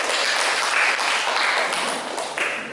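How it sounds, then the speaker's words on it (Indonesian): Students in a classroom clapping together, a brief, steady patter of applause that fades slightly toward the end, moderately quiet with no one talking over it. "Ya, tepuk tangan."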